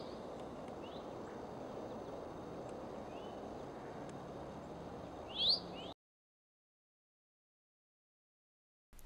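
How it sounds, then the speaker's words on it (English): Outdoor ambience with a few faint chirps, then one sharp rising chwink call of an eastern towhee near the end, just before the sound cuts to silence, in Lyonia Preserve, Deltona, Florida. "Their call is a chwink sound, and as you are about to hear, is very common."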